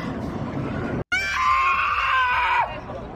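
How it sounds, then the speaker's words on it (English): A woman screams in a long, sustained, high-pitched wail that holds steady for over a second before cutting off, heard close and loud after a brief gap of silence. "Why is she screaming?"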